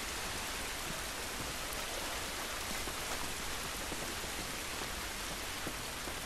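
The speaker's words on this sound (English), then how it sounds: "It's raining, but it doesn't look good." Steady, dense rain falls in The Last of Us Remastered, an even hiss of drops on surfaces that stays at a constant level throughout with no voices.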